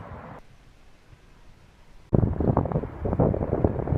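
Cold wind buffets the microphone outdoors by the Floating Islands in Seoul, quiet at first, then suddenly gusting into loud, rough rumbling that persists to the end.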